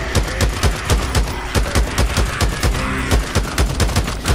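Rapid bursts of gunfire in the zombie-survival game Days Gone, with repeated close, loud shots in an uneven rhythm that fill the whole clip.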